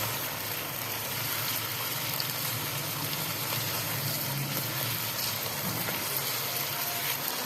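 Ginger garlic paste fries with chicken in a karahi, giving a steady, soft sizzle and bubbling hiss that runs evenly throughout with no talk.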